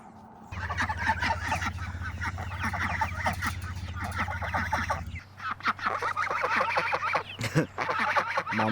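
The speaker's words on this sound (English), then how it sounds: "Mama Goose is upset." An upset mother goose honks repeatedly at a campsite, harsh loud calls in rapid bursts that pause briefly and then start up again over a low background hum.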